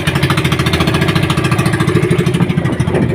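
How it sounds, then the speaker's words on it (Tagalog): A small boat engine runs steadily at close range with a throbbing, even idle rhythm, loud and continuous with no voices over it. "ipaandar na akong makina"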